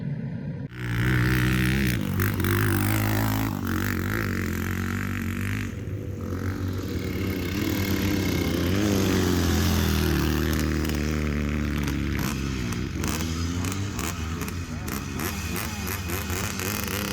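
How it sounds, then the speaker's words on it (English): Motorcycles climbing the very steep Red Marley hill climb, engines droning and revving hard continuously, loud and fairly close, with clattering mechanical noise throughout. "these motorcyclists are trying to ride up it."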